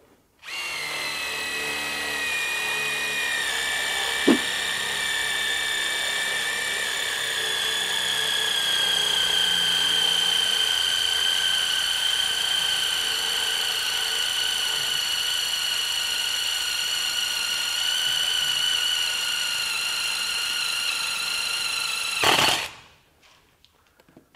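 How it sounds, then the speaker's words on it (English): An impact wrench driving a Spyder Mach Blue Stinger 3/8 inch bit through 3/8 inch steel, a loud sustained whining drill tone with a brief knock early on, cutting off abruptly near the end. "we'll stick with the impact wrench for right now. Here we go, 3 8 inch"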